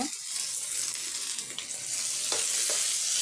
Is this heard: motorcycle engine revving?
no